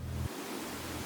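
A steady broadband whoosh of wind, like a sound effect, with a low hum cutting in and out beneath it.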